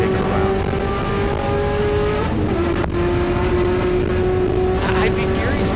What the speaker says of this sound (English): I love that long gearing on these American V8s.